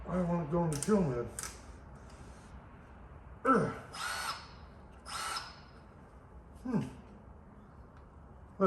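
Snap-on power drill used during a VW clutch removal, giving several short whirring spin-ups with rising pitch, separated by quiet gaps and clattery handling noises.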